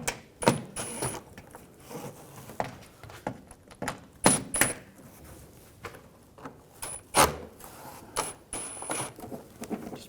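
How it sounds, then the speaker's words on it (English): A Phillips head screwdriver takes screws out of an underbody shield on a 2006-2010 BMW 550i, giving a series of irregular close clicks, metallic ticks and small clanks as screws and tools are handled. "Use a Phillips head screwdriver. Take these screws out."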